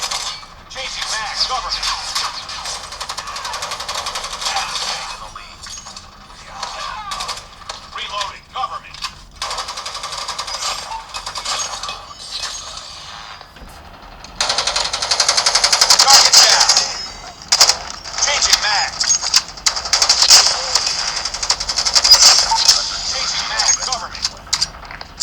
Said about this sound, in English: here's what speakers sound like during gameplay